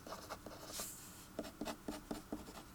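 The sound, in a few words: writing symbols by hand during a lecture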